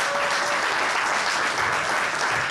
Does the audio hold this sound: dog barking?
no